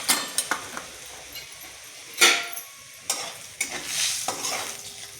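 Garlic, turmeric and homemade masala crackle in hot oil in a home kitchen as a spoon stirs and taps the pan; close, steady sizzle punctuated by several sharp metallic clinks, no talking.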